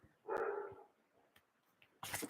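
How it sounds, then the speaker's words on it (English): A pet dog indoors gives a few short barks and yips, one louder burst early then fainter sounds and a final noisy burst, with no talk over them. "I'm getting tired of listening to him bark."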